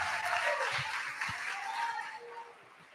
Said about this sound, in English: let's give all of the contestants a round of applause one more time